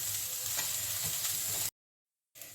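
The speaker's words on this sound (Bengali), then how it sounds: "আমি এখন এই যে পেঁয়াজ দিয়েছি এখন এটাকে একটু আমি ভাজা ভাজা করে নিচ্ছি" Chopped onions fry in a pan with garlic and ginger, giving a steady, close sizzle and hiss that cuts off abruptly, then resumes briefly.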